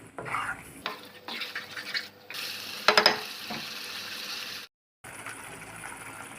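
Tomato paste masala for a Punjabi egg curry stirred and fried in a pan, with close scraping and clinking of a spoon against the pot, a brief louder rattle near the middle, no voices.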